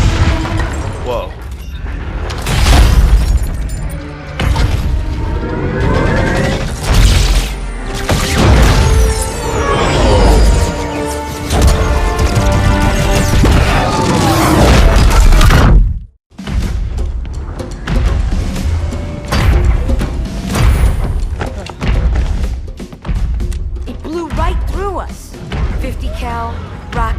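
Rocket explosions in a Halo 2 video game cutscene: dense, loud booms and blasts pile up almost continuously, broken by a sudden silent gap, with music and voices mixed in.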